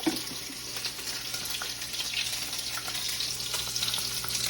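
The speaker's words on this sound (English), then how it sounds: "So I add a little bit of vegan butter." Vegan butter sizzles and crackles in a pot on the stove, a steady bright hiss that runs for several seconds. It carries a faint watery undertone and no voices.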